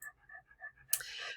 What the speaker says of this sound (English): just in case you hear all that panting, that is my old Labrador